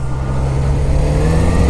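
A Yamaha XJ6 motorcycle engine drones steadily under heavy wind rush as the bike accelerates to overtake, loud and close with a sustained low tone throughout.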